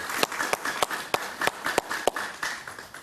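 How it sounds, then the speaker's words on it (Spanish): Light, scattered clapping from a TV talk show audience greeting a guest, a thin patter of individual claps instead of a full roar. "Un aplauso para él"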